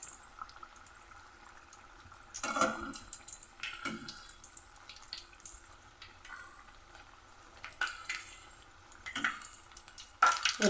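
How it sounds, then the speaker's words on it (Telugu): Ajwain bajji deep frying in hot oil, a steady soft sizzle broken by a few louder bursts of bubbling and crackle as batter pieces drop in, with no talking. "డీప్ ఫ్రై చేసుకోవాలి"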